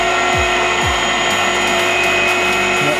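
A salami-making machine runs with a loud, steady motorized whir and high tonal hum, punctuated by a few low thumps and clunks of the mechanism, with no talking.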